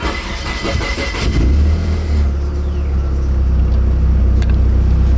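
A Nissan 240SX engine cranks roughly for about a second before catching, then settles into a loud, steady low idle close by.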